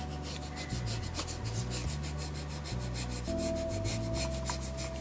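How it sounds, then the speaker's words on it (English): Decoupage paper is burnished down onto a wooden end table in a fast, steady rubbing rhythm of close, scratchy strokes that runs throughout, with no talking. "I'm putting it back down and I'm burnishing really well"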